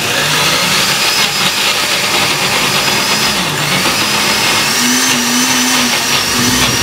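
A blender mixes milk, butter and salt for homemade cream cheese, running loud and close with a steady, continuous whirring motor drone through the whole clip.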